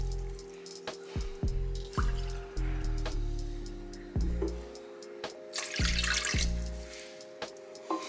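Water pours into a pot or container for flaxseed gel, a steady close gush broken by clanks and knocks of the vessel, the pitch shifting as it fills.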